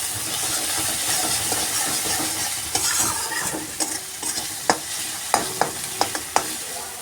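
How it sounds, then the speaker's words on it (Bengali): Garlic paste fries in a pan over low-to-medium gas, making a loud, close sizzle with stirring strokes that sharpen into a quick series of spatula scrapes and taps toward the end, without speech. "ভালোই হয়ে গেছে রসুনটা ভাজা"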